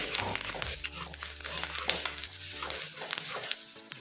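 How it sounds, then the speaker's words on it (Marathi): Ground masala paste sautéing in a pan with curry leaves for kadhi vada, crackling steadily up close while a spoon scrapes and stirs in irregular strokes, over a low steady hum. "वाटण आपल्याला एकदम मस्त परतून घ्यायचंय।"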